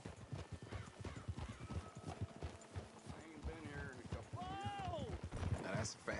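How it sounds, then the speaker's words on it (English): Hooves clip-clop steadily as a horse moves along in the video game Red Dead Redemption, with a whinny partway through and characters talking over it. "That's a fine horse you got there."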